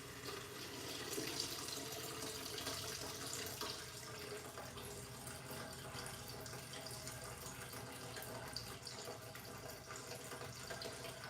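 Liquid wax pours steadily during candle making, a faint, continuous watery trickle that runs unbroken for several seconds without talk.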